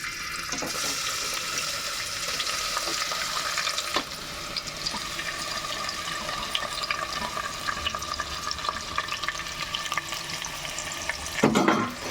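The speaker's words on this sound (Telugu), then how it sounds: "నూనె వేడయింది ఇప్పుడైతే ఉల్లిపాయలు పచ్చిమిరపకాయలు వేసుకుంటున్నాను" Onions, green chillies and tomatoes fry in hot oil for a lentil curry, giving a steady close sizzle throughout with occasional stirring scrapes and a brief louder burst near the end.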